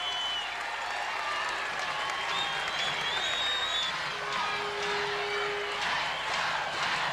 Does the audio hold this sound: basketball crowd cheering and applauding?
yes